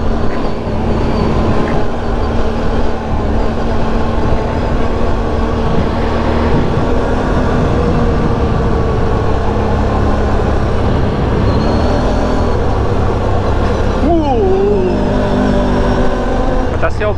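Can-Am 1000R ATV from 2025 riding on a new highway, a loud continuous engine drone with steady road and wind roar, close and constant, with a brief pitch shift near the end.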